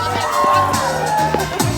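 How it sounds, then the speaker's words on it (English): A crowd at a freak show during a Halloween fright fest cheers and whoops, with a rising and falling hum of voices and scattered shouts rather than steady clapping. "Give this young lady a round of applause."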